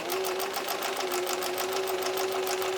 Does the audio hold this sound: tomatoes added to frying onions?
no